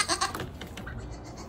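Goats bleating on a small homestead farm, a few loud close calls at the start followed by quieter overlapping bleats through the rest.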